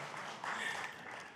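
A congregation at a church service claps briefly and softly, a dense patter of hands heard from a distance.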